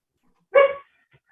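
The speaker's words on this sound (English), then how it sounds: "You might hear a dog and a toddler involved as well." A single short dog bark, close and fairly loud, harmonic and sharp, ringing out over an otherwise quiet room during a town council meeting, followed by silence.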